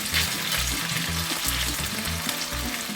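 Beef fries in a pan with a steady, close sizzling hiss, while a low, regular pulsing runs beneath the crackle throughout and no one speaks.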